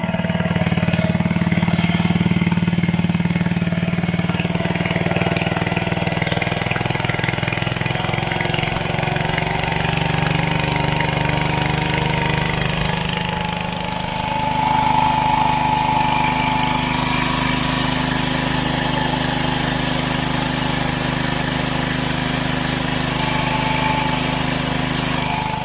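A Honda GX160 small engine drives a homemade 12-volt DC generator, a loud, steady close-up drone that runs continuously, dips briefly midway and then settles at a slightly different pitch, with no speech.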